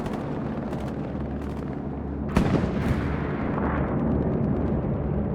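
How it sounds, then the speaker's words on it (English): Bombing run explosions in the Hell Let Loose video game, a sharp heavy blast midway followed by rolling rumble and distant booms, with no voices over it. "We got a Espt bombing run in the back line"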